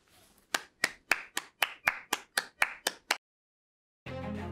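Nine or so sharp, evenly spaced claps ring out close and clear at a virtual college commencement, followed by a pause and then a sustained burst of sound; no cheering crowd is evident.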